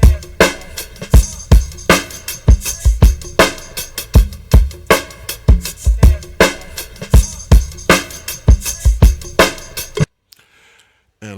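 Chopped and rearranged drum break: punchy kicks, snares and hits loop in a steady, loud rhythm for about ten seconds, then cut to near silence.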